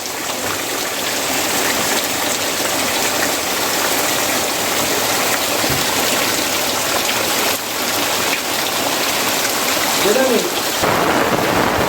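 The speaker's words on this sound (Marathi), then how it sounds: "पावसाने बराचसा जोर घेतला आहे खूप छान पाऊस लागतो" Steady heavy monsoon rain in the Konkan region roars throughout, a dense wash of noise with low thunder rumbling underneath; no pauses in the downpour.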